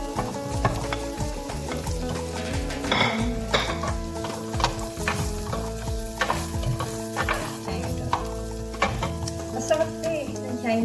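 Chinese sausage stir-frying in a pan for pineapple fried rice with chicken, a steady loud sizzle broken by frequent scraping and clanking of a spatula against the pan, close and continuous with no talk.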